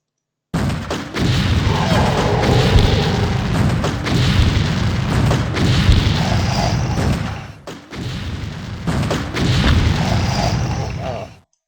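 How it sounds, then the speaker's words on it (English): Explosions in the video game X-Com Apocalypse, a sequence of deep booming blasts and rumbling thuds that roll on for several seconds, loud and heavy, with a brief drop before more detonations follow. "that explosion was larger than it looked."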